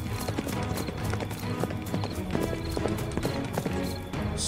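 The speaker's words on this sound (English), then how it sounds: "Donkey runs for his life through the forest." Donkey hooves run through a forest in a steady, rapid clip-clop, close and continuous over a dense background of music and effects.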